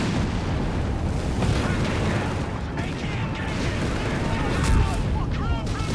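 Dense, continuous artillery bombardment in the Company of Heroes 3 strategy game, with heavy booms and blasts rolling together into a loud, steady rumble of explosions and gunfire that barely lets up.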